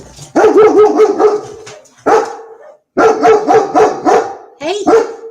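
A dog barks loudly and repeatedly in quick bursts, close by, with short pauses between volleys.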